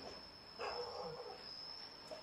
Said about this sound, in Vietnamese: con nghe chó sủa